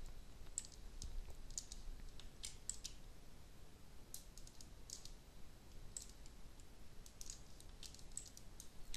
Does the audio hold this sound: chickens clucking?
no